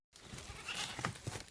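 Goats on a farm bleat in a short burst of wavering, nasal cries close to the listener, with a little background noise and no talk.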